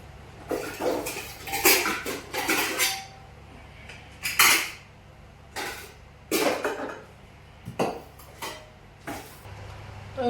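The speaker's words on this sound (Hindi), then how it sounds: "तो इन छोलों को कुकर में डाल देती हूँ।" Soaked chickpeas tipped into a pressure cooker in a home kitchen, with several sharp metallic clatters and clanks of pots and utensils spaced irregularly, close and fairly loud.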